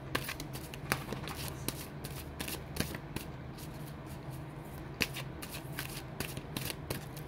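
A deck of tarot cards is shuffled by hand in a quiet room, giving a continuous papery riffle punctuated by sharper slaps and snaps at irregular intervals, close up and without speech.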